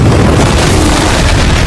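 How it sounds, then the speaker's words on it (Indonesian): A gas station explosion: a loud, sustained roaring blast, deep and rumbling, filling the whole short moment with dense low-end energy. "Tentu tempat pom bensin tersebut juga ikutan meledak."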